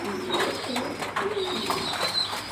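Pigeons coo steadily and close by while pecking at scattered feed, their soft rolling calls overlapping with faint background noise, with no talking.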